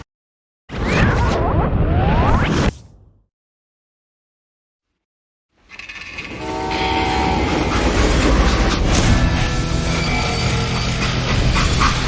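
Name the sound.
freight train running in Call of Juarez: Gunslinger video game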